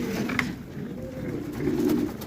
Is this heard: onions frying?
no